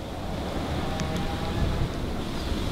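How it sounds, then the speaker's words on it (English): Wind blowing outdoors with a steady rushing roar buffeting the microphone, loud and continuous for a few seconds with no talk. "Wait for this wind."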